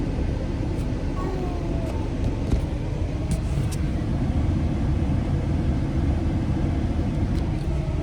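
A car engine rumbles steadily while driving on a road, a loud constant low drone with faint road noise and no talking.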